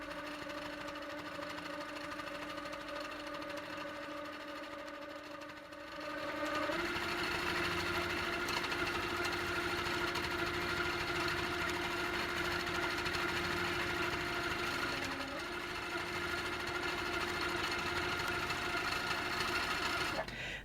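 A Handi Quilter longarm quilting machine stitching a quilt, giving a steady, close mechanical hum and rapid needle chatter that grows louder and busier partway through and then runs continuously.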